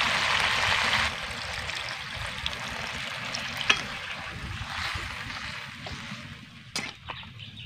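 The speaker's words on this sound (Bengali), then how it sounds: "মাংসের মধ্যে কিন্তু আমি পরিমাণ মতন জল দিয়ে দিচ্ছি।" Water poured into a pot of cooking chicken curry with potatoes, a hissing sizzle and gushing stream at first that settles into quieter bubbling and frying with a few clinks.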